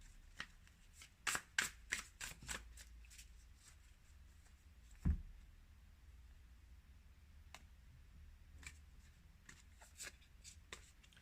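Tarot cards riffle and flutter in quick close bursts during shuffling, then settle into softer scattered taps and slides of cards, with one dull thump midway.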